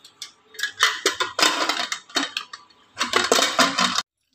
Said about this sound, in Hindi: हम लगा लेंगे कुकर के ढक्कन को